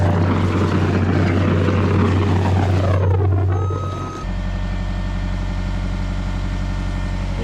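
A tractor engine runs steadily in reverse while pulling a glulam beam toward a patio during an old deck rebuild in Ahwatukee, Arizona. It gives a loud, close, droning hum with a brief shift partway through.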